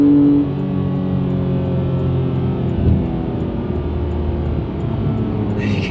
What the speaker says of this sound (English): It's just absolutely unbelievable how this car just picks up the revs.